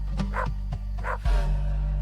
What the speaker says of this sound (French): À l'extérieur, un chien aboya 3 fois puis se tut.